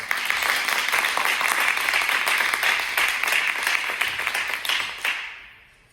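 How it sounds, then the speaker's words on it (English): A crowd claps steadily and fairly loudly for a student named Savannah during a motivational talk, the dense applause holding for about five seconds before quickly dying away. "Y'all clap your hands for Savannah."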